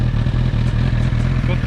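A 2021 Honda CB1000R Black Edition motorcycle engine idles close up with a steady, throbbing low rumble and an even mechanical pulse throughout.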